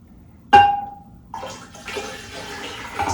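Water poured or run into a container while preparing a kombucha brew, starting with a sharp splash and then a steady, close rushing and trickling fill with no talking.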